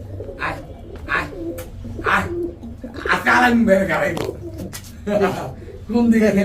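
White Bombay pigeons fighting and cooing, giving repeated deep throaty coos and rolling calls close by, mixed with someone talking over them.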